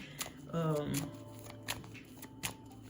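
Deck of cards shuffled quickly in a few short riffling bursts during a card reading, close and soft, with a voice talking over it.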